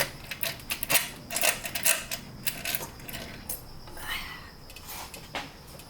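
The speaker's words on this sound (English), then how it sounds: "Finally, we can take off the intercooler." Metal parts of a car intercooler clink and rattle as it is lifted out during a turbo replacement, a quick run of close, light metallic knocks and scrapes, with no one talking.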